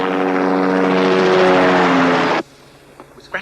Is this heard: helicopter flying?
yes